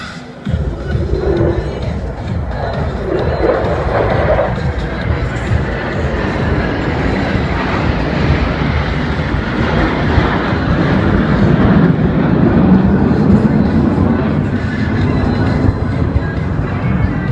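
A pair of F-16 fighter jets from the RSAF Black Knights pass overhead at the Singapore Airshow. The sound is a loud, sustained jet roar lasting throughout, under a commentator's voice.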